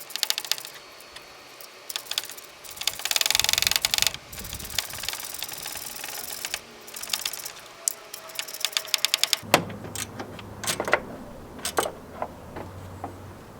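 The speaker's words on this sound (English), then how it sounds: "you're going to retighten this bolt until the belt is at tension" A bolt being retightened to tension the drive belt on a 22RE engine, giving rapid metallic ratchet clicks in bursts, close and fairly loud, over a low hum, with no talking.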